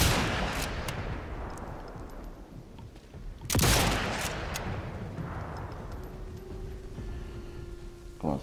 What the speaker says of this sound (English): Oh, it's a big gun.